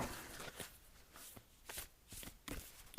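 Tarot cards drawn and shuffled by hand, a series of quick papery riffles and slaps in irregular bursts, close and quiet with no voices.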